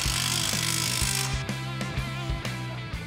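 A power tool snugs down suspension bolts on the front long-travel suspension of a VW Beetle Baja Bug with coilovers: loud, steady whirring broken by repeated short bursts and clunks, close up, with no talk.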